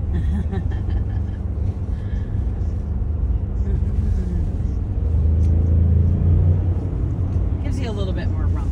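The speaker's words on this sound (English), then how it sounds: "A little bit more rumble too, you know, usually the engine is fairly quiet" Ford F-150 King Ranch pickup truck engine rumbling steadily from inside the cab while driving, a low continuous drone that swells slightly midway, with people talking over it.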